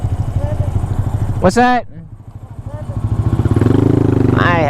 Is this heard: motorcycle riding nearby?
yes